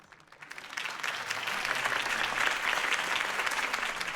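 A large crowd in a Batman video game breaks into sustained, steady applause that swells quickly and holds at a dense, even roar of clapping.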